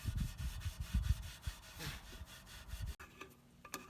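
Fine 4/0 steel wool rubs lightly over the ceramic rim of a Big Green Egg grill during a gasket replacement, giving close, rhythmic back-and-forth scrubbing strokes for about three seconds before a quieter stretch.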